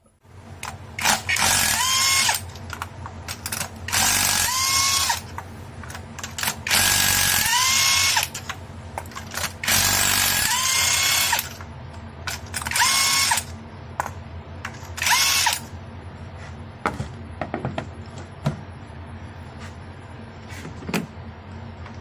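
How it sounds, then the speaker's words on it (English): A power tool spins spark plugs out of a 2013–2017 Nissan Altima engine in several loud, close bursts of whirring drill noise, each lasting one to two seconds, separated by quieter gaps with faint clicks. "Let's pull those spark plugs out and get this vehicle out."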